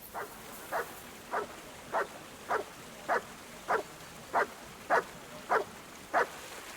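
Mutt the dog barks in Kingdom Come: Deliverance II: eleven short, even barks at a steady pace of about two every second, fairly close and clear over a faint background hum.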